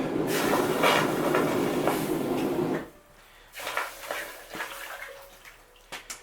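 A loud, sustained hiss and bubbling roar as a hot forged steel arrowhead pendant is plunged into water, cutting off abruptly, followed by scattered clinks and small splashes.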